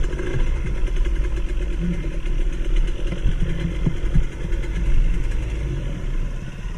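A dirt bike engine runs in the woods on a newly cut trail, a continuous mid-pitched drone and rumble that stays fairly level and close throughout.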